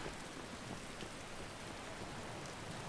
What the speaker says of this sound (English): I just love being able to like sit outside the rain